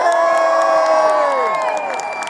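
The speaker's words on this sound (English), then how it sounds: "So let's give a cheer to Preston, who's having a rally tonight." Protest crowd at a Sheffield demonstration against the Muslim ban lets out a long, loud unison 'yay' cheer, many voices sustained together, with scattered claps that tail off.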